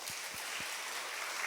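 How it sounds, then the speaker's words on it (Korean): A church congregation at Sunday worship applauds, a sustained wash of many hands clapping together, with a few low thumps near the start. "우리 박수 한번 해주세요."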